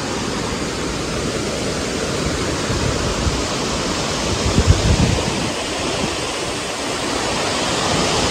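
A scenic waterfall at Katta village in Konkan roars as a dense, unbroken rush of falling water, loud and steady throughout with no voices.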